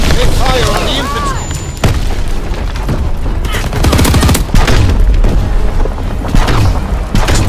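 Battlefield gunfire in Call of Duty: WW2: loud, continuous rifle and machine-gun bursts mixed with heavy booms and explosions, while voices shout over the chaotic, close-range din.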